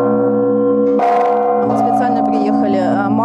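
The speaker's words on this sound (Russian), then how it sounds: "Первый удар в самый большой колокол благовестник совершил митрополит Александр." Large church bell, the biggest blagovestnik in an Orthodox cathedral belfry, struck at a consecration ceremony: a deep sustained ringing tone with a fresh strike near one second, long resonant hum and faint background voices.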